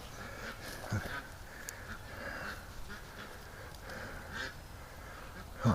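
A pet duck named Disco honks and quacks in short raspy bursts while a person tries to give it medicine, close and loud, with speech around the calls.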